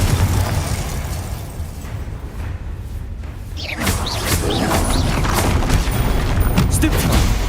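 Confringo fire spells blasting in Hogwarts Legacy combat, booming explosions with whooshing bursts under continuous loud game noise, a dense rumbling burst swelling partway through.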